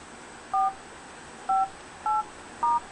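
Four short dial pad tones from Android 2.2 running on an iPhone 3G, evenly spaced beeps over a faint background hiss, no speech.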